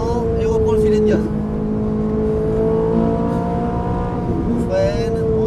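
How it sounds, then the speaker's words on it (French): A car accelerates out of a corner on a race track, its engine note droning steadily and rising in pitch at close range, with a voice talking over it. "On redresse et on accélère"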